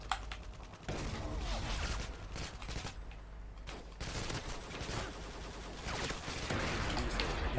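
Rapid bursts of gunfire in Modern Warfare 2 (IW4X), with dense volleys of shots and mechanical clatter running nearly continuously, loud and close throughout.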